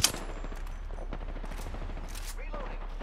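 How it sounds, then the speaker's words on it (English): Rapid gunfire in the battle royale game Apex Legends, sharp shots and bursts scattered through the stretch, close and fairly loud under a player's talk. "They're shooting at me."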